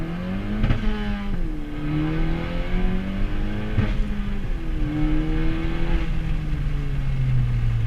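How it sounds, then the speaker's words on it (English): A 10th-generation Honda Civic Si with a catless downpipe is floored in first gear to redline; the engine climbs in steady loud revs with a few sharp exhaust pops between the pulls. "let's go ahead and floor it right here and see if it pops in first gear red line"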